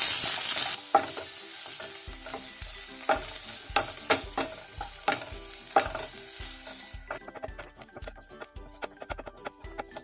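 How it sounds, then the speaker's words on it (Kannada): Garlic and onion frying in a pan for Mangalorean crab sukka, a steady sizzle broken by repeated sharp scrapes and knocks of a spoon stirring against the pan, close and loud. "ಬೆಳ್ಳುಳ್ಳಿ, ಈರುಳ್ಳಿ ಮತ್ತು ಬೆಳ್ಳುಳ್ಳಿನ ಚೆನ್ನಾಗಿ ಫ್ರೈ ಮಾಡೋಣ."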